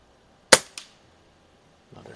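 Two sharp shots from a scoped Walther LGR air rifle, a loud crack followed a quarter second later by a fainter second report, then quiet with a soft rustle near the end.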